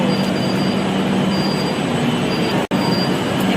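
A metro train runs along the track with a loud, steady rumble and a thin, high wheel squeal above it, heard from inside the carriage; a brief dropout interrupts it near the end.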